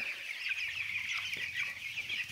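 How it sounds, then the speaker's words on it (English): A hen clucks steadily in a barn among meat birds, a dense continuous chorus of poultry clucking and murmuring close by with no speech. "We have an egg production hen that left her area of the property, and she has joined the meat production birds."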